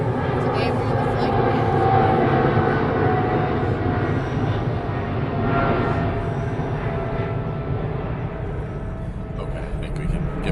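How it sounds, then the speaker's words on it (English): An intercontinental airliner flies overhead at a dog show, a broad, steady roar that fills the whole stretch at fairly constant loudness, with no talking over it. "We're just going to pause for the airliner."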